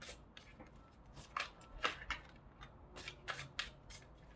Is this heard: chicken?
no